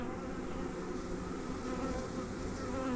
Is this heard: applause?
no